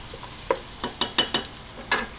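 Chicken going into a pan already frying capsicum and curry leaves, giving a few scattered scraping stir strokes and light sizzles, fairly quiet and unhurried, with no talking.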